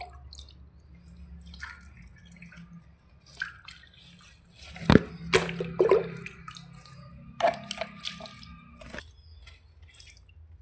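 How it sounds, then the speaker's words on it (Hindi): Water poured a little at a time onto the bone-dry soil of potted plants outdoors, giving soft drips and wet splashes in uneven bursts, close by, with a low breeze-like rumble underneath and no talking. "तो थोड़ा थोड़ा मैं पानी डाल दूँगी उनमें।"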